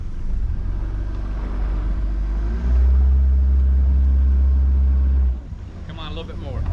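An outboard motor on a fishing boat near Charleston, South Carolina runs at a close, steady low rumble that swells midway, then cuts off near the end, with voices nearby.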